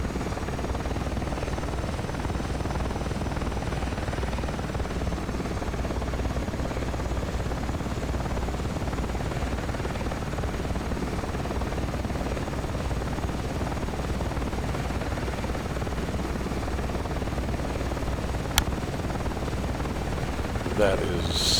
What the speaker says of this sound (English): That is such a sexy helicopter.